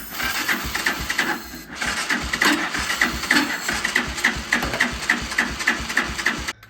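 A Power Wheels toy ATV quad, turning over with spark, cranks in a fast, steady mechanical chatter that never catches, loud and close for several seconds, no talking.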